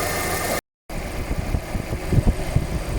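Alfa Romeo 156 engine idling after warming up with the cooling fan running, a steady close mechanical hum and rumble with a brief cut, then uneven low thumps and vibration.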